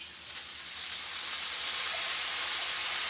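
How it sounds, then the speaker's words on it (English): An arctic char fillet sizzles in a frying pan, a close, steady bright hiss that swells gradually, with no voices. "now you can see it's starting to sizzle again"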